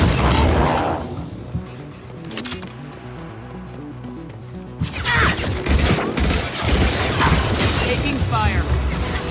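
Gunfire in the video game Mass Effect 2, with dense bursts of shots and booming impacts over a running game soundtrack, growing louder and busier in the second half.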